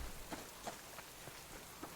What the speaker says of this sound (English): But on the third day, it usually rains in the game.